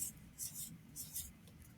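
Pen or pencil writing numbers by hand on paper, faint soft scratching strokes in short bursts, quiet and close.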